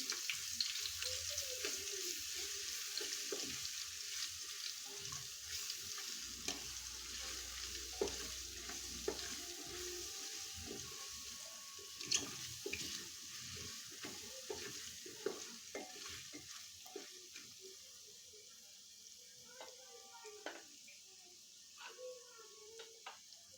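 Ginger garlic paste sautés in a pan with a hissing sizzle and repeated scraping and clinking as it is stirred, fading slightly over time while a voice speaks quietly now and then.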